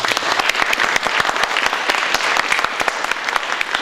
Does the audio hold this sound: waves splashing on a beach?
no